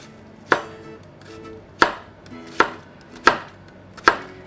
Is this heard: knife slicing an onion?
yes